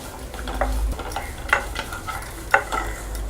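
Grated coconut is stirred and roasted in a pan for payasam, a soft sizzle running under repeated scraping strokes of a spoon against the metal, with no talking.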